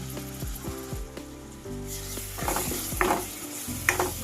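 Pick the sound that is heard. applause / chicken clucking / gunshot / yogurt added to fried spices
yogurt added to fried spices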